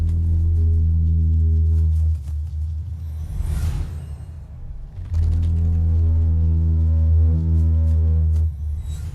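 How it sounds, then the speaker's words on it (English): Hummingbird tail feathers vibrating in a courtship dive, slowed down into a deep, steady humming drone with strong harmonics, loud and continuous, briefly giving way to a rushing whoosh midway before the hum returns. "The air screaming through his spread out tail feathers makes them vibrate in a very special way."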